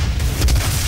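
A Gauss cannon fires in the video game DOOM as a single, brief, heavy low boom with a sharp crack at its peak.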